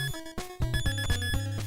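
Low-health warning beeps from the Teenage Mutant Ninja Turtles game on the NES. A rapid string of short chiptune tones repeats in a steady pulse over a bass line, faint and continuous, with no voices.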